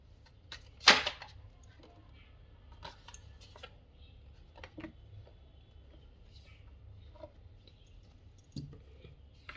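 Two tarot cards drop together onto a surface, making a sharp papery slap near the start, followed by soft handling clicks and rustles in a quiet room.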